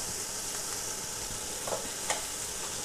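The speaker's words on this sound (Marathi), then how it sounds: "व्यवस्थित मसाला भाजून घ्यायचा।" Mutton masala powder roasting in hot oil in a pan for a chicken curry, a soft steady sizzle throughout with a couple of faint stirring scrapes, no voices.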